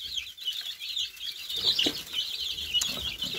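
Farm chickens with a crossbred Gaulish rooster, hungry and restless, clucking in a steady chatter with a few bursts of wing flapping close by.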